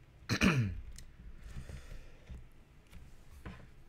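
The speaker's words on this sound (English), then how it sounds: "Just had a big coughing spree." A person coughs and clears their throat in a harsh burst, followed by several smaller rough coughs spaced irregularly, close and fairly loud.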